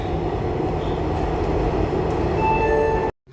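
A metro train rumbles loudly along the rails with a thin wheel squeal near the end, then it cuts to silence.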